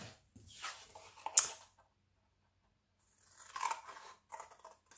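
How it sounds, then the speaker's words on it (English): Scissors snip through cardboard while cutting out a kitten shape, giving short crunchy cuts in two bursts separated by a silent pause, close and fairly quiet. "And now I'm going to go ahead and cut that out."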